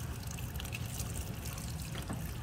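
Dye-soaked material squeezed hard during an azo dye synthesis, releasing a steady wet trickle and dripping of liquid, continuous and moderately loud close by, with no talk.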